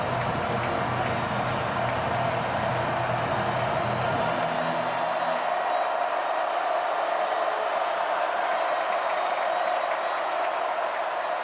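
Stadium crowd at a South Carolina versus Clemson college football game cheers and applauds loudly, a dense sustained roar whose low rumble thins out midway while the bright cheering carries on.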